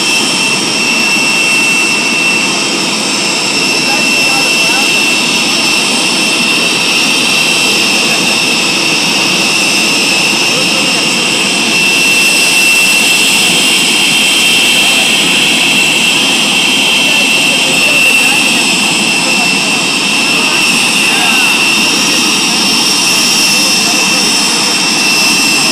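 Pratt & Whitney JT-8D jet engine running during a ground engine test, a loud sustained roar with a high whine layered over it, steady and unbroken throughout.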